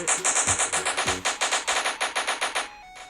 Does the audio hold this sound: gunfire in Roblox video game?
yes